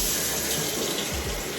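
Hot water running from a kitchen tap, a loud, steady hiss and splash heard up close, with no one talking.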